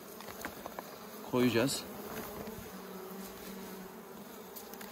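Wild honey bees buzz faintly around a hunter gathering a swarm into a bag outdoors, a thin continuous hum under a brief burst of nearby voice and rustling.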